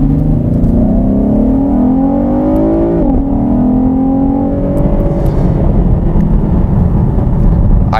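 A 2020 Chevrolet Camaro with a 335-horsepower V6 accelerating hard, engine note climbing through a gear, dipping at a shift, then rising again, loud and close from inside the car.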